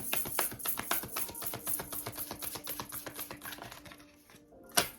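Tarot cards being shuffled, a fast steady run of crisp riffling clicks at close range, thinning out near the end before one sharp tap.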